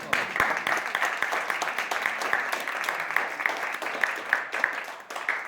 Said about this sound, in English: Give God a nice round of applause.